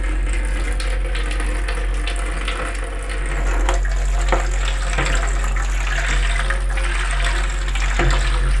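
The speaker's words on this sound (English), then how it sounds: "So, get some water into the tray here." Water runs steadily into a developing tray for wet plate photography, a continuous close splashing and gurgling fill lasting several seconds with no talk over it.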